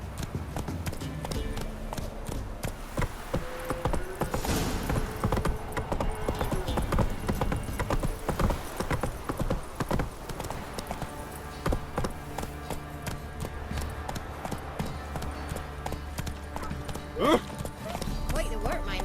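A horse gallops in The Witcher 3 video game, with steady rapid hoofbeats in a clip-clop rhythm and a brief whinny, all under voices talking and game ambience.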